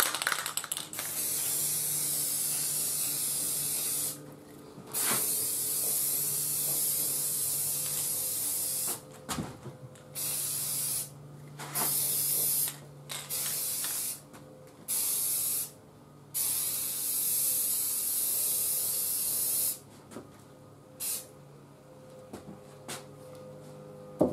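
A spray can hisses in repeated bursts, some long and some short with brief pauses between, as a Bakelite radio case is painted pink close by, with faint clicks in the gaps and no talk.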